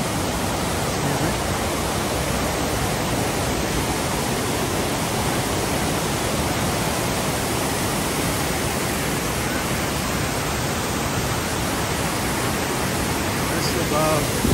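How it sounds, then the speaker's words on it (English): A waterfall roars just below a hiking trail at Caesars Head State Park, a steady, dense rush of water filling the whole stretch with no pause. "This is above one of the waterfalls here."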